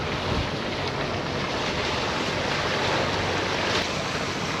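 Rough, darkening seas churn around a sailing boat as wind buffets the microphone. A constant roar of wind and washing waves fills the scene with no pauses and no voices.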